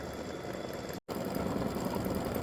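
Sewing machine quilting background fill on an Easter flower bunny quilt block, a loud, steady close-up mechanical drone with one brief stop near the middle, no talking.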